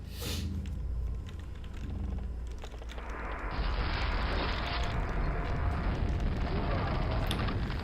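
Rocket blasts and launcher fire in Quake's Arcane Dimensions, with several enemies shooting rockets; a dense, continuous rumble of explosions grows louder and fuller partway through and keeps going to the end.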